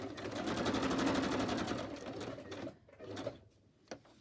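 A sewing machine runs steadily with a rapid mechanical whir, then slows and stops, followed by a few scattered clicks and a soft thump.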